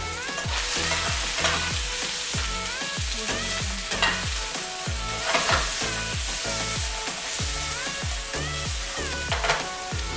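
Onions and garlic frying in a pan give a constant sizzle, broken by frequent, regular scraping strokes of a spoon stirring them, close and fairly loud, with no talking.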